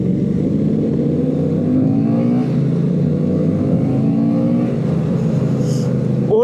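A bigger group of motorcycles on a ride out from Paignton to Dawlish, engines droning and revving steadily together with a rattly exhaust texture, close and continuous throughout.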